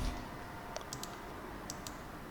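Sparse, light clicks of typing on a computer keyboard while entering text in Photoshop: a few quick keystrokes in small clusters over a steady low background hum.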